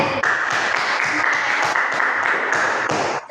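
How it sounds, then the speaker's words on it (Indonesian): Brisk clapping from a small group, loud and continuous with an uneven rhythm, stopping right at the end. "Tepuk tangan untuk Fian dan Des."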